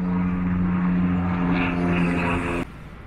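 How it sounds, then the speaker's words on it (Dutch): A small airplane flies over a church tower near a camper site in Veghel, its propeller engine droning steadily overhead before dropping off sharply near the end. "Vliegt er net een vliegtuigje over de toren"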